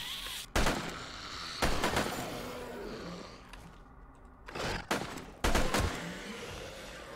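Gunfire in the survival video game 7 Days to Die: four loud, sharp shots spaced a second or more apart, each with a short ringing tail, over steady game ambience.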